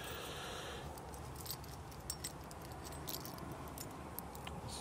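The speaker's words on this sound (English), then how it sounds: "This is the keys for them." A set of keys for a 1988 GMC Jimmy K5 jangles softly and steadily over a steady outdoor background hiss, with small metallic clinks scattered throughout.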